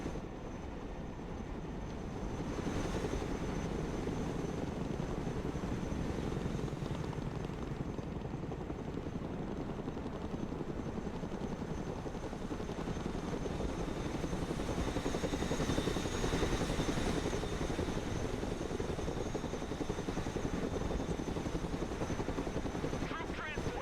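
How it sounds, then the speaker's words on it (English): A Chinook helicopter flies in the video game Broken Arrow, a continuous rotor whir and turbine hum at moderate level that swells slightly over time, with a person talking over it. "Let's go and recover it with our helicopter. Where's my Chinook"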